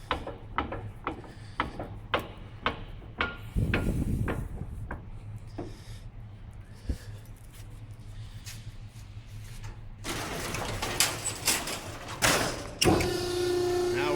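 A cardboard baler door being closed by turning its wheel latch while the latch slides across: a series of sharp metallic clicks and ratcheting knocks, followed by heavier clanks and scraping near the end.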